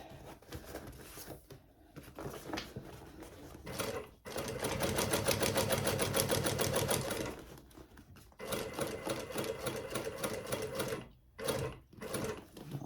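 A sewing machine stitches the lining of a handbag in several bursts of rapid, even whirring, with one long steady run in the middle and short pauses and stops between runs.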